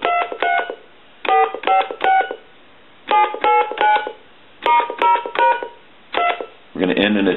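The keypad of a Spirit of St Louis Model 541 telephone under repair sends clear electronic dialing tones. Short beeps come in quick groups of three or four with brief gaps between groups, and a different, buzzier tone follows at the end.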